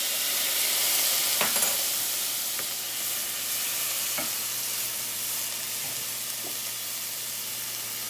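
White wine vinegar deglazing a hot pan for a beef bavette with oyster sauce, a broad, steady hiss that stays loud and even throughout, with a few faint utensil taps and no talking.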